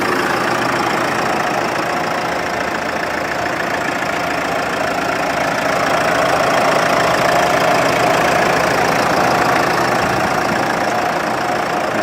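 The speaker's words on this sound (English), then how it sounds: "Now you can hear that diesel." A 2014 Mercedes-Benz E250 BlueTEC diesel idling with the hood open, a steady close rattling clatter that holds evenly throughout, with no voices.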